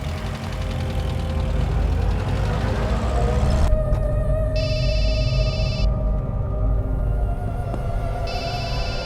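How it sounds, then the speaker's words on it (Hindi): A phone rings in repeated electronic bursts over a loud idling engine rumble, two ring spells separated by a short pause. "किसका फोन है"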